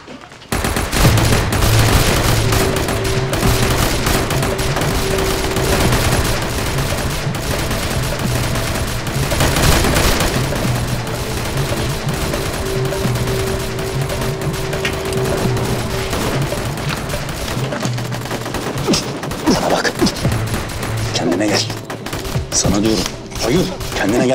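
Sustained automatic gunfire laying down supporting fire in a Turkish TV drama battle scene, dense and loud throughout with shouted voices mixed in.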